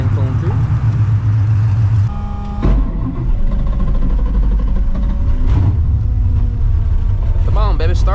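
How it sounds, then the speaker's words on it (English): A Ford Mustang rolls past with a steady, rumbling engine note that swells and fades over several seconds, mixed with other traffic and crowd noise, while people talk nearby. "nice Mustang pulling through"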